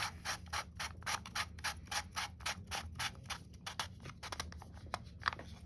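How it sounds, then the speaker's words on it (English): Plastic cap of a purple no-name spincast fishing reel being screwed down, a close run of quick dry ratcheting clicks in an even rhythm, slowing and turning irregular toward the end. "Screw down the cap."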